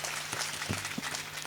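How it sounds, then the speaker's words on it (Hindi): An audience claps throughout, a short burst of steady applause at a religious song and story gathering, moderately distant. "एक बार ताली बजा दिया जाएगा।"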